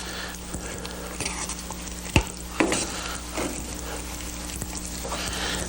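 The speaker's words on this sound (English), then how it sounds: "all we need to do now is just kind of stir this up" Gravy being stirred in a pot with venison roast, onions, carrots and potatoes, a bubbling simmer with scraping utensil strokes and a few sharp clanks against the pot.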